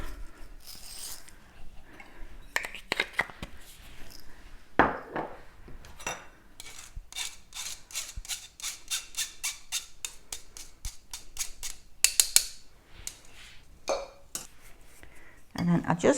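Hot chocolate dry mix being stirred in a container, with rapid rhythmic scraping and clinking of a utensil in bursts, close-up, with a few quieter pauses between strokes.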